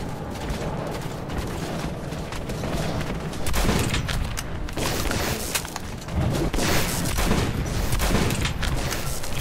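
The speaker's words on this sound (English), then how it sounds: "I almost shot a Miller there" Gunfire in the video game Metro 2033 Redux: dense bursts of shots and heavy booms pile into a loud, continuous barrage with no talking.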